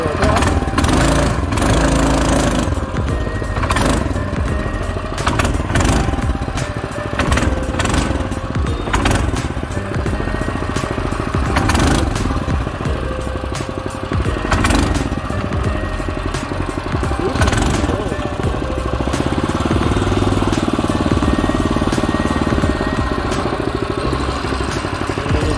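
A Predator 224 engine on a longtail mud motor boat idles on the water with a steady, loud rumble and even chugging pulses, running on without a break.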